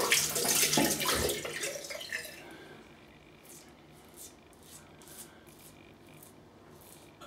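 Cold water running from a tap during a shave, a loud rushing stream at first that stops after about two seconds, followed by quieter rubbing and scraping sounds.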